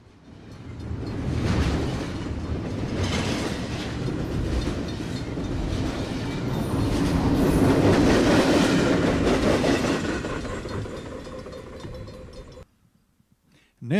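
Norfolk Southern container freight train hauling import-export boxes passes by for about twelve seconds, a loud, steady rumble with rolling rail clatter that swells mid-pass, then cuts off sharply to near silence.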